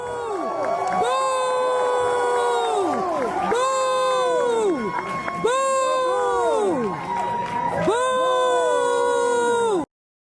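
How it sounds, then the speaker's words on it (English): A crowd at a Congressional Black Caucus event boos Brandon Johnson in loud, drawn-out waves of voices that swell and fall about four times before cutting off. "They're booing Brandon Johnson."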